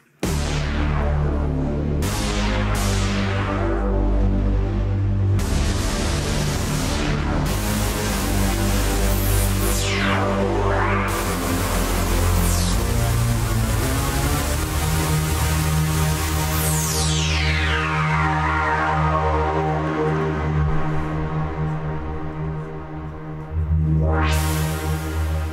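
A Rasta preset on the Halion 6 software synthesizer plays a heavy, throbbing bass pattern with sweeping, rising and falling whooshes over it, sustained and loud throughout with a brief dip near the end, no talking.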